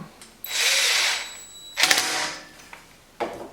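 A power drill drives screws into a ROVSUN 12L electric deep fryer in two long whirring bursts, then one short final burst, with quiet pauses between them.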